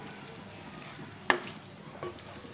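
Chicken gizzards and livers sizzle on a low flame in a pan while being stirred, a soft steady fry broken by a sharp spatula clank and a lighter scrape a moment later.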